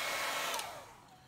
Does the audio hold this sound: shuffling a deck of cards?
no